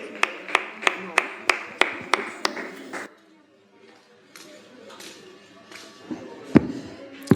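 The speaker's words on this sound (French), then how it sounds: "Sous vos applaudissements" An audience at a televised singing competition claps in unison, giving about nine sharp, evenly spaced claps. The clapping stops abruptly and is followed by a quieter stretch with a few scattered taps and thumps.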